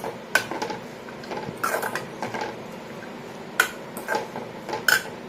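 Spoon stirring a spinach mixture in a metal cooking pot, with several scattered clinks and scrapes against the pot, close and fairly loud, separated by quieter pauses.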